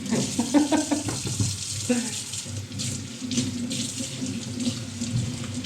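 Tap water runs into a sink while leeks are washed, a steady splashing stream with occasional handling clatter near the start and a faint voice underneath.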